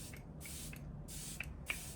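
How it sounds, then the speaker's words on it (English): Charlotte Tilbury setting spray misted onto a face in a makeup routine: four short, hissing pump sprays in a steady rhythm, close and fairly loud, with faint clicks of the nozzle between them and no talking. "I like to go in with the Charlotte Tilbury setting spray"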